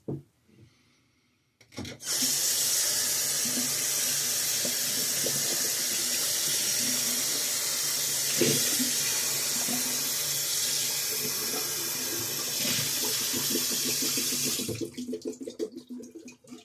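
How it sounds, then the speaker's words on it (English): A water tap runs steadily at a sink as a shaving bowl and brush are rinsed, a loud continuous gush that starts abruptly, carries faint rubbing and clunks beneath it, then cuts off near the end. "time to rinse out my bowl and brush"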